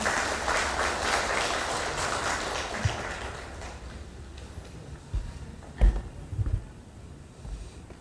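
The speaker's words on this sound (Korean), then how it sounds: "큰 환영의 박수 부탁드립니다." An audience at a Guro district social welfare forum applauds steadily to welcome the district mayor, a dense, even wash of clapping that thins toward the end, with a few louder knocks and thumps near the close.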